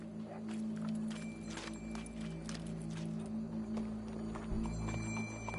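Horse hooves clip-clop at a steady walking pace in a video game, close and clear over a low, constant background hum and game ambience.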